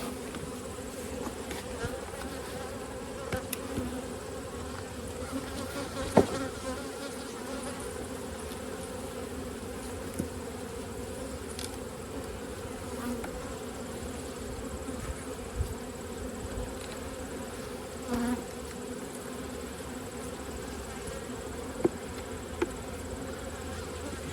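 Honey bees buzz around an open hive during a fall inspection, a dense steady hum close by with faint clicks and knocks of frames throughout, and a few quiet voices under the drone.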